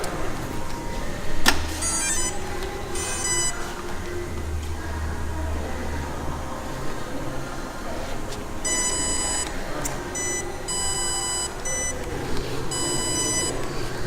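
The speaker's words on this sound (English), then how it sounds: "This is our future. Cars that beep." A prototype car at a car show emits bursts of high electronic beeps in several clusters over steady crowd and engine background noise, fairly faint and intermittent.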